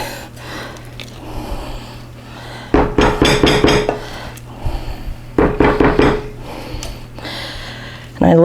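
A spatula scrapes mashed twice-cooked potatoes out of a bowl into an ungreased baking dish in two loud bursts of rapid scraping and thudding, separated by quieter stretches with some background hum.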